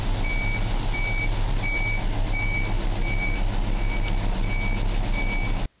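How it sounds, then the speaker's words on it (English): A truck reversing during street blacktop paving sounds a steady series of about nine evenly spaced beeps over a loud low idling engine rumble, cutting off abruptly at the end. "every time they back up, it's beep, beep, beep, beep."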